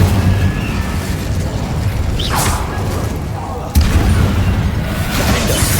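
Incendio fire spell cast in Hogwarts Legacy, heard as bursts and whooshing booms in a dense, loud game soundscape with a sharp impact near the middle.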